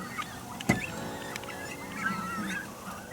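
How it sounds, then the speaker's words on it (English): Harsh, honking squawks of cormorants carry over steady water and ambient noise, with one louder call standing out among fainter distant cries. "the cormorants were squawking to beat the devil"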